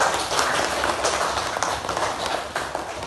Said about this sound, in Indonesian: silahkan beri tepuk tangan untuk kelompok 1